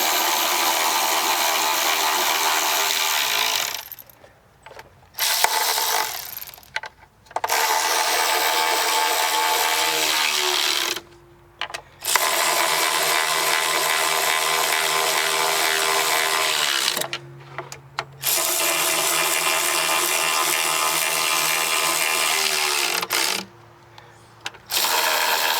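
A power tool whirs steadily while running down 10 mm intake bolts on a Dodge Journey, in several long bursts separated by brief pauses, close and fairly loud with no talking.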